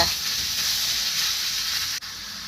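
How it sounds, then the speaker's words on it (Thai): Cabbage stir-frying in a pan, giving a steady, loud sizzle and hiss of steam that runs throughout with a brief break near the end. "พี่น้องจ้าผัดกระหล่ำปีให้สุกจ้า"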